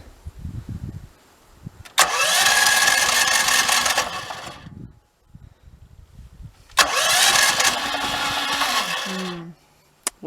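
An engine cranks with the choke set, trying to start: two long bursts of loud churning starter noise, each lasting a few seconds, with a pause between and a faint rumble before the first.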